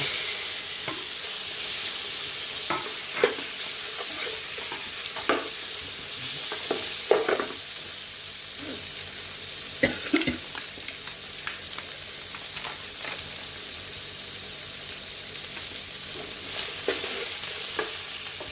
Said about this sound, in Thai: ใส่ปลาลงไปเลยค่ะ